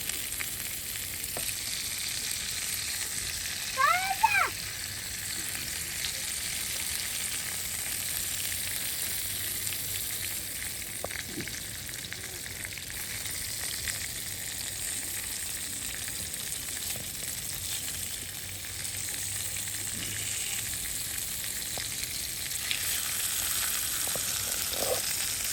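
Food fries in a pan outdoors on a beach campsite, with a steady, close sizzle and spitting crackle that continues throughout, plus a brief chirp near the start.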